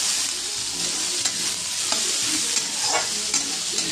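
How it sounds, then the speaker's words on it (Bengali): Tomato, green chili and spices frying and being stirred for kochkochi: a steady, loud close sizzle with scattered scraping stir clicks throughout, no talking. "চলুন এবার এগুলো সব ভাজাভুজি করে মশলা করে পুরো কচকচিটা করে নিই"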